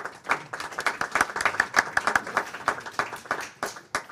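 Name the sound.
light applause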